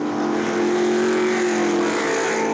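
A 1950s Mercedes Formula One racing car driven on a circuit, its engine a loud, steady high-pitched drone held close throughout with no talk.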